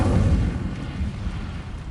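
An Incendio fire spell is cast in the Hogwarts Legacy video game, a loud, deep whooshing burst of flame that fades gradually over about two seconds.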